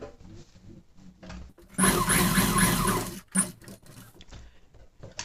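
Sewing machine stitching loops onto a pinafore, one loud continuous run of about a second and a half, then a brief second burst, with quieter handling noise before and after.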